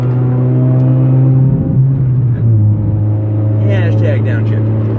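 An Audi R8 engine rumbling loud and close, its pitch stepping down and dropping as it downshifts, then settling into a steady low drone, with people talking over it.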